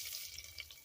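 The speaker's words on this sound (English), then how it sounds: "Let's go ahead and pour this into our mashed yam." Liquid pours in a short, soft trickle into a bowl of mashed yam in a home kitchen, faint and close with no talking.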